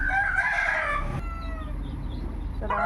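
Chickens and chicks cluck and a rooster crows close by, with a burst of bird calls at the start and again near the end over steady farmyard noise.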